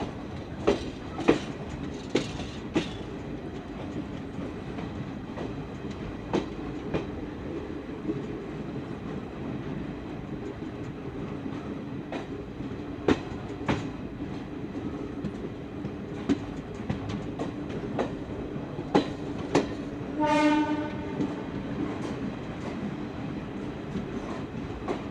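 The Azamgarh Weekly Express, train 13137 from Kolkata, runs toward Mau Junction with a steady low rumble and rhythmic wheel clacks, plus one brief squeal or whistle-like tone near the end.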